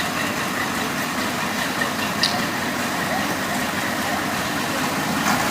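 A steady low engine rumble from a 1924 International 43 antique tractor at a parade, a continuous close drone with broadband noise and no clear speech.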